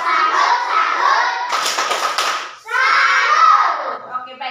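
A group of children perform a 'tepuk salut' clapping chant, loud chanting voices broken by a burst of sharp, rapid hand claps in the middle, then more chanting.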